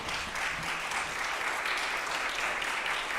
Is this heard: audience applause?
yes